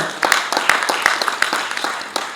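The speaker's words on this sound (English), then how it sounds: "I think we can clap hands" An audience breaks into applause for a Pan-Africanism speech, scattered sharp handclaps ringing out irregularly at close range, uneven and thin rather than a full roar.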